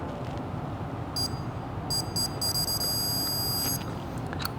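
A torque wrench set to 18 foot-pounds on a bolt, during work on a Holley mid-mount accessory system for an IROC Z, gives short high beeps and then a longer sustained beep over a steady background hum.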